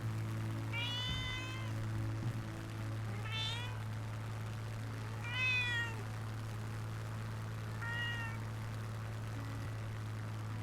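A cat meows four times, each a drawn-out, rising-then-falling call spaced a couple of seconds apart, set alongside a steady low hum, the chime marking a new follower on a live stream.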